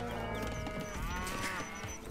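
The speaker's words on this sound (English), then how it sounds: "Get the cow." Cattle in Age of Empires 2: Definitive Edition let out a loud, drawn-out moo with bleating tones, heard alone and close, with no talking.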